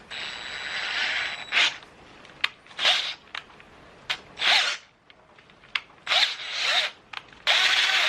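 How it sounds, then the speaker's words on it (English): Cordless power drill boring into a 2JZ engine part during an intake manifold install on an E46 swap, running in several short bursts of a few seconds each with brief pauses between, close and fairly loud. "So let's use the drill."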